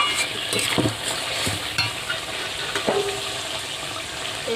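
Chicken sautés with garam masala and a splash of water for chicken chow mein. It gives a dense, wet sizzle with stirring scrapes and soft utensil knocks, steady and close, with no voices.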